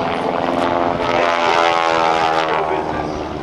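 A propeller aerobatic airplane flown by John Mohr at the 2012 NAS Oceana airshow climbs for altitude, its engine a loud, steady, harmonic drone that swells slightly and then eases off.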